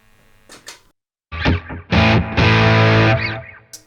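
An electric guitar played through an OCD overdrive pedal in the effects loop of a Sonicake Matribox II Pro gives a couple of faint picked notes, then loud, sustained distorted chords that ring out and fade.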